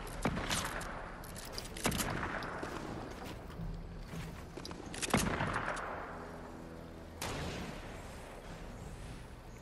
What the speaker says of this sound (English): I think they're shooting at us.